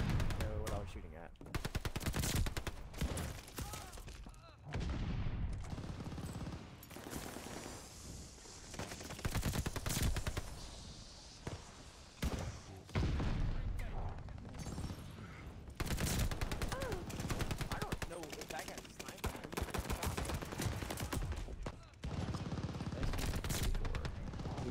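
Rapid automatic bursts from an Owen Gun in the shooter Call of Duty: Vanguard, loud repeated volleys of gunfire through most of the stretch with brief gaps, some voice mixed in.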